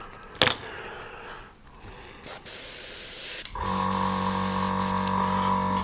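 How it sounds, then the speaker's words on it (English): Airbrush or spray can hissing as paint is sprayed along a masking-tape edge on a model Lambda shuttle, a short burst then a steady continuous spray close by, with no talking. "I'm going to kind of spray the edge."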